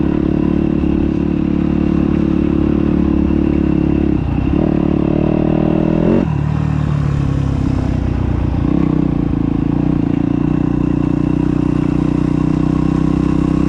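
KTM 250SXF dirt bike ridden hard, its engine a loud, continuous close-up drone that shifts pitch as the rider changes gears and throttle, with clattering and wind noise throughout.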